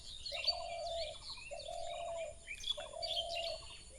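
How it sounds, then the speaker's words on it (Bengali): Several birds chirp and tweet in the early morning, with repeated bright call phrases and a steady background chorus, moderately near and continuous, no talking. "চারিদিকে পাখি ডাকতেছে,"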